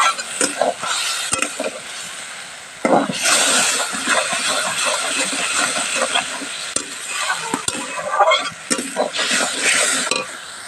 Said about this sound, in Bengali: আরও একটু জল দিয়ে মশলাটা এবার সুন্দর করে কষিয়ে নিলাম